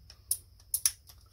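A Milwaukee 2598-22 drill's keyless chuck gives a few quiet, sharp clicks as it is twisted tight on a bit, with two clear ticks close together and fainter ones around them.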